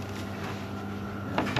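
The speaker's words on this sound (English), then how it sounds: "That's the coffee machine, everybody." A coffee machine runs with a continuous low hum and whirring noise, steady throughout, with a couple of brief clunks near the end.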